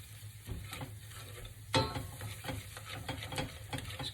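Flour stirred into melted butter for a roux in a pan, a soft low sizzle under quiet scraping strokes and one sharper clank of the utensil against the pan.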